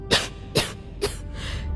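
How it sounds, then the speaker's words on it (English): A character in the Starfield video game coughs three times in quick succession, harsh, close bursts about half a second apart, followed by a softer breathy exhale. "That cough doesn't sound good at all."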